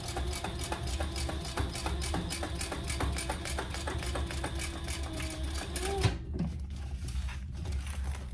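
Sewing machine top stitching a sling bag: a steady fast rhythmic needle patter that runs continuously, then stops abruptly near the end, leaving quieter handling sounds.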